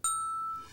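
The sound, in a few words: notification bell ding sound effect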